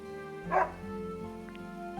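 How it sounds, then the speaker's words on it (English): A dog gives a single short bark, close and clear, over a steady sustained musical tone that continues underneath before and after. "Is this your dog?"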